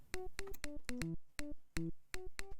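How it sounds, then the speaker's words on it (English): Short synth plucks from the Serum synth, with a sharp noisy snap from its noise oscillator at each attack, played in a quick uneven rhythm, clean and alone. "snap sound to our synth, we're gonna turn on the noise oscillator,"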